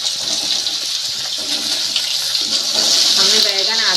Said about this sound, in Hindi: हम इसमें बैगन ऐड कर देते हैं। बैगन को हमको ज़्यादा नहीं फ्राई करना है